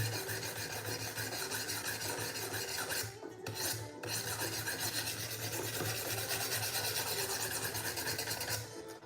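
A Benchmade knife edge is sharpened on a 320 grit stone, giving a steady, continuous rasping scrape close up that pauses briefly once and carries on with no talking.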